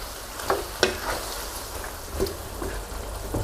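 Spatula stirring a pork leg red-curry stir-fry with cut eggplant and a handful of sliced fingerroot in a pan, with soft scraping strokes over a steady background sizzle.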